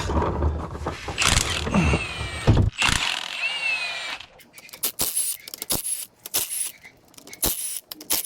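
Tools working to remove the differential from a car being built as a daily drifter, with a viscous limited-slip diff: bursts of power tool whirring and mechanical clatter, then sharp metallic clicks and ratcheting taps spaced out over the second half.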